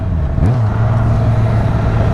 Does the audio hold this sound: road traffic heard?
yes